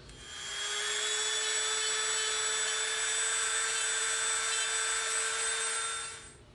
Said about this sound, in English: we're gonna come in with our Dremel bit and we're gonna tighten that end up just a little bit